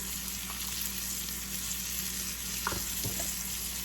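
Sliced fairy tale eggplant sautés in two tablespoons of butter in a pan, giving a steady close sizzle with a few soft clicks of stirring.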